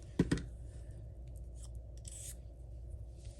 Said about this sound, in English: I'm gonna take my scissors and trim off all the extra bits.